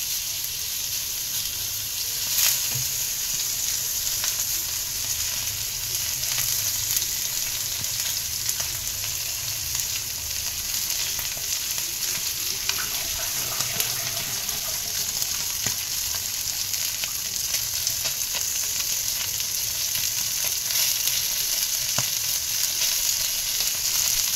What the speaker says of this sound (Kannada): ಮ್ಯಾರಿನೇಟ್ ಆಗಿರೋವಂಥ ಫಿಶ್ ಏನಿದೆ ಅದನ್ನು ಈ ರೀತಿ ತವಾ ಮೇಲೆ